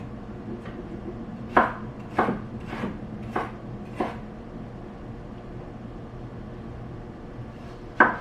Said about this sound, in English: so we can just chop these